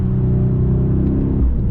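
A Mercedes-AMG GLS63 SUV fitted with Monoblock wheels gives a deep, loud engine rumble while driving, a steady low growl that shifts in pitch toward the end of a brief pass.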